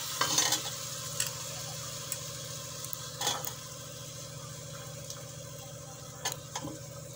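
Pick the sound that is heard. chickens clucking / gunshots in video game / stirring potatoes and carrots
stirring potatoes and carrots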